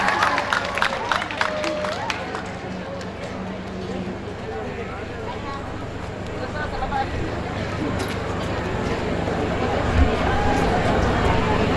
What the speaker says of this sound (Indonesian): Sekali lagi tepuk tangannya yang meriah untuk peserta dengan nomor undian 12.